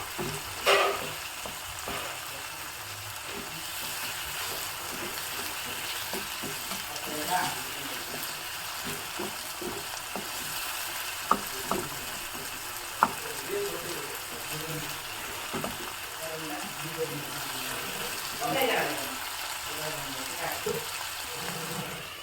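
Chopped tomatoes with a little salt sizzling softly in a pan for a Kumta Brahmin-style palya side dish, a low steady fry with occasional scraping and clinking of a stirring spoon.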